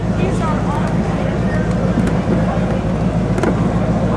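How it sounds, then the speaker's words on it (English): Inside a car pulling out of the line into the final staging area at a Mecum auction drive-thru, a loud, steady low engine rumble and road noise continue throughout, with a voice talking over it. "we are now pulling out of the line into the final staging area"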